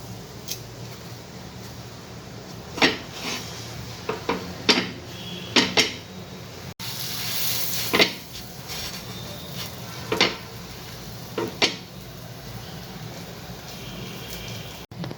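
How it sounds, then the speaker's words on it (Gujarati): Pav buns toasting with butter and pav bhaji masala in a pan for a street-food cheese paneer masala bun, heard as scattered clinks and taps of metal on the pan over a soft, steady background hiss. "હવે આમાં આપણે પાવ શેકી લઈશું."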